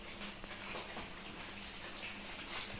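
Steady rain falls on potted plants set outdoors to catch the rainwater, a soft continuous hiss of drops with no talk.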